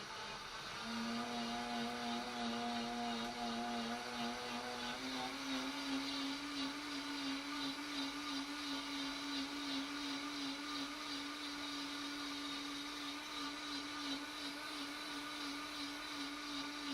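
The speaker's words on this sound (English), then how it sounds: "Now we are going to put that in the blender with a little bit of fresh mint." A kitchen blender purees soup with fresh mint in a loud, steady whir that steps up in pitch after a few seconds, then holds a constant drone.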